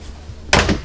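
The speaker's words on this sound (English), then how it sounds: "And this has a privacy door." An RV bathroom privacy door closes with a single sharp, close knock midway, followed by a brief rattling settle.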